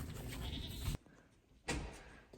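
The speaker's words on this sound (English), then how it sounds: "The goats." Farm goats bleat twice, faint and somewhat distant, with a short quiet gap between the calls.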